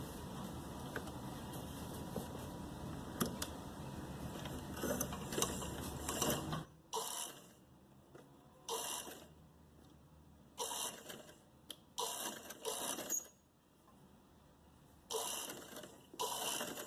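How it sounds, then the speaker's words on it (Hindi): A sewing machine stitches blouse fabric for a party-wear neck design, first in a long steady whirring run, then in a series of short bursts separated by pauses, close and clear. "यहाँ से मैं सिलाई शुरू कर रही हूँ।"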